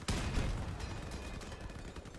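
Vehicle-mounted guns fire in Crossout, a close sharp shot opening a rapid, rattling stream of gunfire that stays steady and fairly quiet for two seconds.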